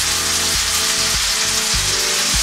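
Cachapa corn batter sizzles steadily in a hot pan, a loud, close, continuous hiss with a low repeating thump running underneath.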